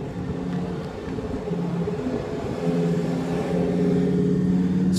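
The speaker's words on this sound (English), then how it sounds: "So here comes the Huracan." A Lamborghini Huracan Spider rumbles through a busy street during Monterey Car Week, its engine a low steady drone that grows slightly louder and nearer toward the end.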